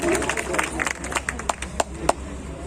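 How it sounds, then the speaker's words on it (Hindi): Audience at an all-India mushaira applauding to welcome the cameraman, a dense burst of clapping with sharp individual claps standing out, under a murmur of crowd voices. "एक बार जोरदार तालियों से स्वागत कर दीजिए कैमरामैन को"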